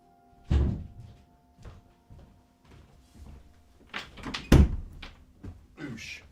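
A door is pushed shut and latched to keep a cat out, giving a few scattered knocks and a louder cluster of thuds and clicks at close range.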